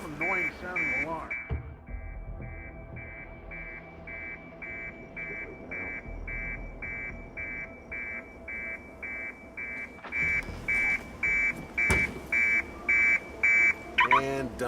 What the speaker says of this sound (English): What an annoying sounding alarm.